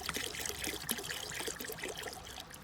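Water and hydrochloric acid are poured into a bucket, giving a close, splashing trickle with uneven gurgles and drips that continues steadily before easing slightly at the end.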